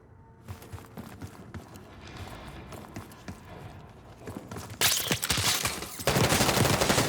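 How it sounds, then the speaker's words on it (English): Rapid bursts of gunfire in the video game Call of Duty: Black Ops 6 crackle and rattle, growing denser and louder toward the end, with hurried thuds mixed in. "Hearing gunfire?"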